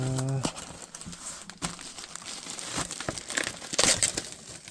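Crinkling and tearing plastic as a Godzilla toy package, a theater-exclusive Mega Gears figure, is sliced open, close-up rustles and crackles with a voice speaking briefly at the start.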